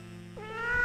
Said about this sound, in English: That's the sound of a cat who's a little upset.